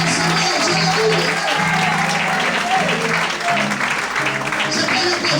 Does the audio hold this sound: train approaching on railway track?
no